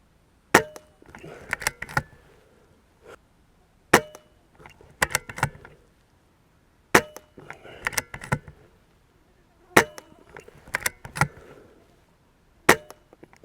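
A BSA Ultra SE .22 air rifle fires pellets at a target, five sharp cracks spaced a few seconds apart, each followed by metallic clicks and rattles of reloading.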